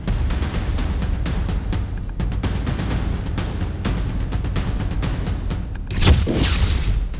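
A bomb explodes near a school in Qazvin province, Iran, heard through CCTV audio as a sudden loud boom near the end after several seconds of steady, dense rumbling noise.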